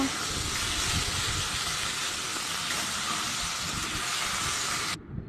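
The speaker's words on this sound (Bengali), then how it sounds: "এবারে মাছগুলো এক এক করে ভেজে নেব।" Pieces of fish frying in hot mustard oil make a loud, even, close-up hiss that stays steady for about five seconds, then cuts off abruptly.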